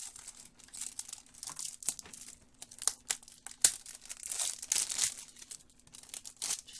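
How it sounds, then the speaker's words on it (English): Plastic shrink wrap crinkles and tears as it is peeled off a Nintendo Switch box, an irregular run of close, crisp crackling and ripping bursts with no voices. "So I'm gonna take off the plastic here."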